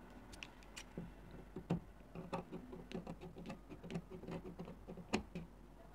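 Scissors cut out a paper pattern for a wrap dress in a quiet series of soft, close clicks and snips that come in a loose, uneven rhythm.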